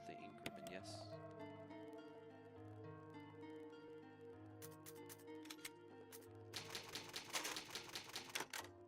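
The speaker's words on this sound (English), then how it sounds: "It's an old typewriter. Can save your progress." An old typewriter at a save point in the Resident Evil REmake video game clacks in bursts of rapid keystrokes over a low, sustained ambient music drone, the typing growing dense and loud toward the end.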